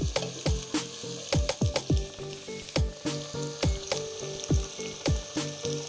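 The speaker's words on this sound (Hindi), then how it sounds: "जब तक गोश्त का कलर चेंज नहीं होता हम इसे भूनते रहेंगे।" Chicken pieces frying in a karahi for white chicken karahi, a continuous sizzle broken by rapid, regular metallic clanks and scrapes of a spatula against the pan, close and loud, no voices.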